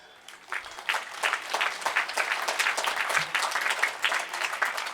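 Church congregation at the Infant Jesus Church annual feast in Hubli breaking into applause: clapping swells in after a quiet start and continues as a lively, uneven patter of many hands.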